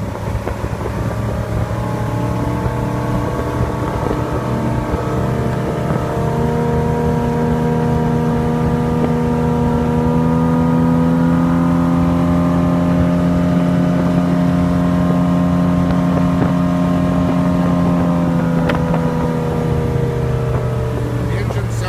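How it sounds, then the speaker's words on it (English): The engine of a 1992 Spectrum 1950 19-foot open-bow motorboat hums steadily and rises gradually in pitch as it gains speed, with a continuous droning whine throughout. "Let's bring the boat up to speed."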